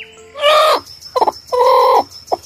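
Chicken clucking and calling nearby, loud distinct squawks in a short sequence of separate bursts with quiet gaps between them.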